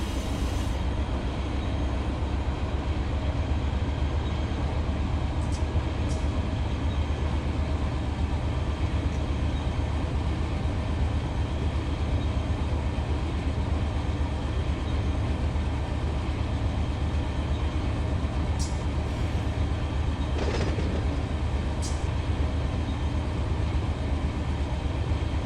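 A freight train runs in the train simulator game Run 8, a continuous loud diesel rumble and rolling wheel noise with a few brief squeals, steady throughout and with no talk.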